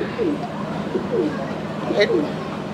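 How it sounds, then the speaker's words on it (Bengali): Lahori pigeons at a pigeon farm coo in soft repeated rolling calls, several in quick succession, close by against a low background murmur. "দর্শক আপনারা দেখেন কত সুন্দর মাশাআল্লাহ কবুতরগুলো"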